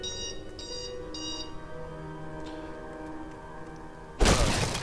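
An alarm clock rings in a room during Diablo III play: three short electronic beep bursts close together at the start, a steady background hum, then a loud, harsh burst near the end.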